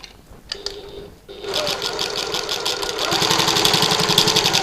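A sewing machine stitches fabric for a button lock bag, starting after a few soft clicks and then running in a steady, rapid close mechanical rhythm that speeds up toward the end.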